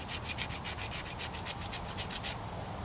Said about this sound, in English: we're just going to start scraping anything that's left on there off